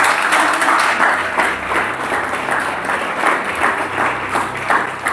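Congregation at a French-speaking church service clapping and applauding in praise of Jesus, a dense, steady wash of many hands that holds throughout without a break.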